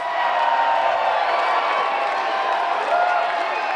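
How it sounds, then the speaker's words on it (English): Capacity crowd of about 500 fans at the Scottish Rite Temple giving a loud, sustained ovation after a wrestling team's ring introduction before a ladder match, with steady cheering, whoops and clapping throughout. "What an ovation from the capacity crowd here at the Scottish Rite Temple."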